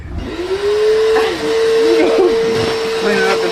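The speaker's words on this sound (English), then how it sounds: "Mike, are you gonna vacuum her?" A vacuum cleaner runs loudly and steadily up close, sucking up mess from a large snake's cage, its droning whine holding throughout while people talk over it.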